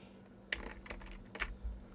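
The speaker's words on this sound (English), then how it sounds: "oh sorry, the keyboard," Fingers tap a computer keyboard in a few quick, soft clicks clustered into two brief bursts, close and quiet with no talking.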